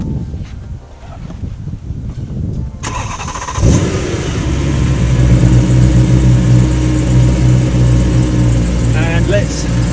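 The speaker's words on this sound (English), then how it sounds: "Let's switch the engine on." A BMW M3 parked in woods, heard close up as a steady mechanical whir begins partway through and continues loud and even to the end, replacing quieter rustling at the start.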